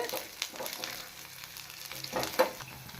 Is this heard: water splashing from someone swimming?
no